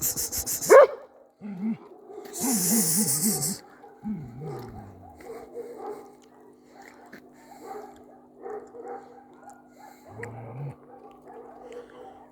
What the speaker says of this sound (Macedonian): Зошто лаеш бе, мамице?